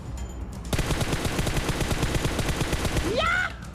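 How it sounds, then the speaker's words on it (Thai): Rapid automatic gunfire in PUBG Mobile rattles in a sustained burst of closely spaced shots after a brief quiet moment, loud and near, followed by a rising whistling effect. "มีเสียงปืนด้านขวาเรา"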